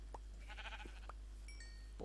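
Minecraft sheep bleating in brief separate bursts over a steady low hum, with a few thin electronic tones in the game audio.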